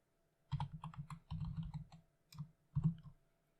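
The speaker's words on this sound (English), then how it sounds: "we'll type in disallow :" Typing on a computer keyboard: a few quick runs of light, close clicking keystrokes in short bursts separated by brief pauses, quiet and alone.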